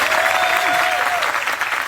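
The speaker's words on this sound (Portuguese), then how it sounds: "Uma salva de palmas, Kaká Diniz." Steady audience applause at a motivational talk on a ranch, with a voice speaking over the clapping.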